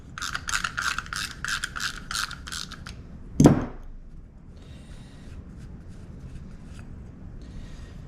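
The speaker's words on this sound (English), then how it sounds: "we'll go ahead and take the float bowl bolt on the bottom out as well" A ratchet removes the float bowl bolt from a Keihin PJ38 carburetor off a 1996 Honda, giving a close run of about eight rapid clicking strokes, then a sharp clunk and a few faint clicks.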